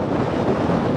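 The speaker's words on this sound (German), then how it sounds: "das war wirklich extremer Wind" Strong gusting wind buffets the microphone on an open stretch of the Nahequelle trail near Selbach, producing a dense, continuous roar with no pauses.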